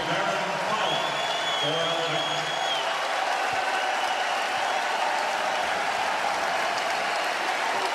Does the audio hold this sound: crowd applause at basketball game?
yes